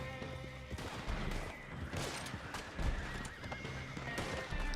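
In the video game Red Dead Redemption 2 Online, a horse whinnies amid scattered gunfire and hoof clip-clops, a busy mid-level mix of action sounds with no talk.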